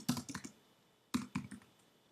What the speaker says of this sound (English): then I'm going to type in my unordered list